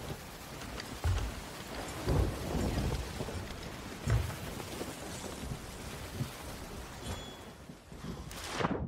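Stormy weather at sea in Sea of Thieves: steady heavy rain with repeated rumbling thunder claps, several strong booms spaced a second or two apart, loud and enveloping.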